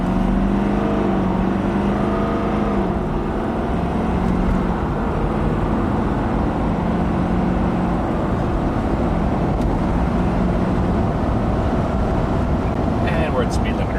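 A diesel truck accelerates hard up to its speed limiter, a loud sustained engine drone heard from inside the cab that stays steady and heavy throughout.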